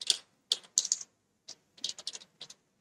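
Keys tapped on a computer keyboard while entering text, in short irregular bursts of clicks separated by brief pauses, close and fairly quiet, with no talking.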